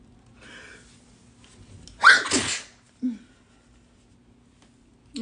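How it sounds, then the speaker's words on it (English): A single close, sharp human sneeze bursts out in a quiet room, followed by a brief exhalation and soft stirring. "Don't act like you ain't ever seen nobody sneeze before."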